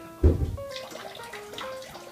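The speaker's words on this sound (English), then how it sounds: "Once you pour the A&W Diet Root Beer into the milk and butter mixture" A&W Diet Root Beer is poured into a milk and butter mixture, giving a brief splashy glug at the start that settles into a soft, bubbly fizzing pour close by.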